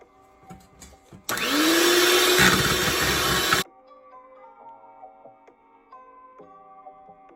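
An electric mixer whirs loudly for about two seconds, beating strawberry mousse cream, then cuts off abruptly, leaving faint clinks and quiet kitchen handling.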